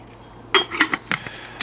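Several metal camping pots and bowls from a small cook set clink and clatter together close up, with quick bright knocks in a brief irregular burst.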